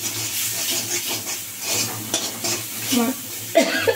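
Salted masala being stir-fried in a pan, a close sizzle broken by scraping and clinks of a spatula against the metal, with the stirring growing busier toward the end, no talking.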